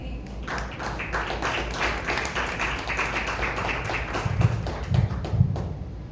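A church congregation applauds, a steady patter of many hands clapping at moderate volume, with a few louder, lower thumps near the end.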